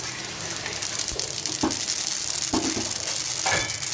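Mustard seeds crackling and sizzling in about two spoonfuls of hot oil for a tadka tempering, a continuous bright frying hiss with small pops and stirring knocks, close and steady.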